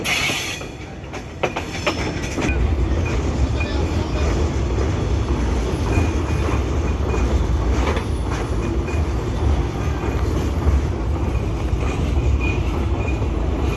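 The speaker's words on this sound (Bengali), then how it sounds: "আস্তে আস্তে ট্রেন চলছে।" A train rolls slowly onto the Jamuna bridge, with a loud steady rumble of wheels and carriages and faint clickety-clack and light squeals, a few knocks at the start before the roar settles in.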